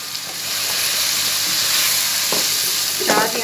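Chopped medium onion tossed into a pan of fried chicken, a loud, continuous sizzle and hiss of hot oil with a few stirring scrapes and clatters near the end.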